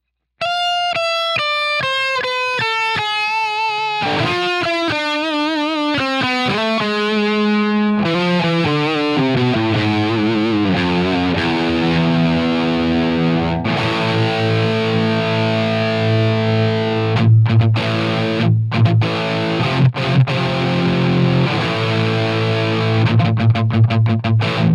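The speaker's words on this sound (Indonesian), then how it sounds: "Fender ini seperti ini suaranya atau karakter audionya ketika memakai distorsi." A Fender electric guitar played through a distortion effect: a run of single picked notes stepping downward, then sustained chords and riffs with thick, buzzing overdrive, loud and alone.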